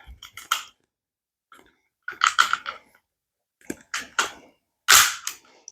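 Metal slide of a SIG Sauer P320 pistol being slid back onto its grip during disassembly: several crisp clicks and scraping snaps in short bursts separated by silence, close and clear, the loudest near the end.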